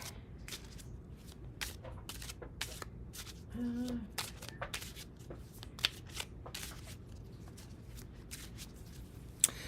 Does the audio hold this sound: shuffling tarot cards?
yes